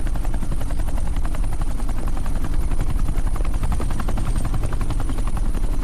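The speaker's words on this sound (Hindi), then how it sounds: "ये हेलीकॉप्टर सीधे एयरपोर्ट के टारमैक पे लैंड होगा।" A helicopter landing on an airport tarmac, its rotor chop loud and close with a fast, steady thumping over a constant engine roar, and no talking.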